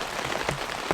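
Heavy rain drums steadily on a camping tent during a storm, a dense, continuous patter of drops close overhead with no voices.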